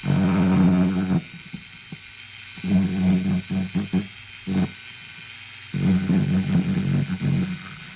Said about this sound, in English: The fine cut-saw burrs work really nice on little details.